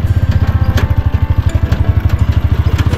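A motorcycle engine idles close by with a rapid, steady low thumping pulse, running evenly throughout without any talking.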